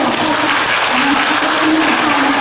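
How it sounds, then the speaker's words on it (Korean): An indoor audience claps for a lecturing priest at an Advent talk, a dense, loud, steady round of applause throughout. "이번에 허강을 해주신 신부님께 다시 한번 큰 박수로"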